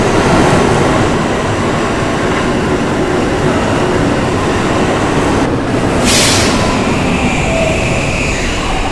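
An R160C E subway train rides along on an admin run, a loud steady rumble of wheels and car noise filling the whole stretch, with a brief hiss or screech burst near the end.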